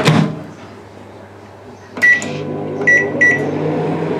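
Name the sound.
microwave oven running, cooking onions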